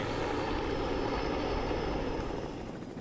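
A police helicopter flies overhead with a steady, loud, continuous rotor and engine roar that holds evenly before fading slightly at the end, with no voices.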